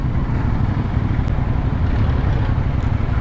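A constant low rumble of engines and city road traffic heard while riding a CF Moto NK 450 motorcycle, with a brief faint click partway through.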